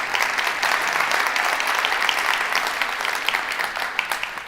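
Audience at the Flint mayor's 2024 State of the City address applauding, a steady, fairly loud wash of clapping with a few sharper claps standing out throughout.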